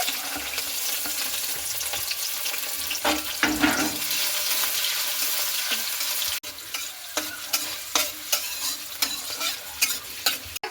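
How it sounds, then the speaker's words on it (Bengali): Capsicum frying in hot oil for fried rice, a steady dense sizzle with occasional stirring scrapes and clatters, close and continuous, briefly dipping near the end. "এবার আমি ক্যাপসিকামগুলোকেও ভেজে নিচ্ছি।"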